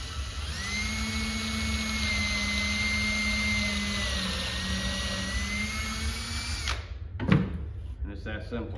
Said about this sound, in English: Chuck up the drill.